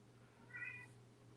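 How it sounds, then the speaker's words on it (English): A single short, faint meow from a cat, heard alone over a low steady hum in a quiet room. "Hello, Mama Kitty."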